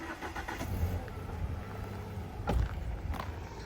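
An Alfa Romeo car engine starts and idles close by, then the car creeps forward with a low rumble and a brief surge of revving.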